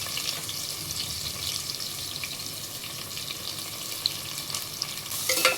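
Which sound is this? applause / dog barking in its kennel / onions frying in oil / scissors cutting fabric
onions frying in oil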